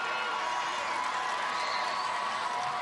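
Fans of the Bishop Amat Lancers cheer at a high school football game against Mater Dei late in a lopsided win. A steady, distant roar of crowd noise carries without pause.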